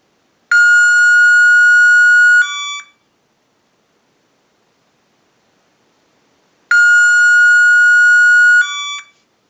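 A TA-1042 military field telephone rings on its second ring cycle: two long, loud electronic trills about two seconds each, separated by roughly four seconds of silence.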